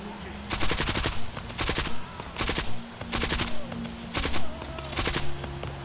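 Automatic gunfire in the video game Far Cry 2 comes in five or six rapid bursts spaced about a second apart, loud and sharp against a quiet background.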